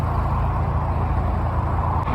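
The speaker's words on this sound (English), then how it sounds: "as you can hear the traffic there, we're right next to the A38" Road traffic on the A38 beside a canal, heard from a narrowboat as a continuous low rumble of passing cars and heavier vehicles at moderate distance, steady and unbroken.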